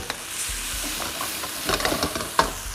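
Mackerel stir-fried with sweet basil and sugar in a wok, a loud continuous sizzle with scraping stir strokes and bursts of hissing steam, close up and without speech.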